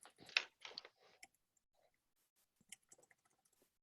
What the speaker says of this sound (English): Sorry, I'm just typing the answer here to everyone.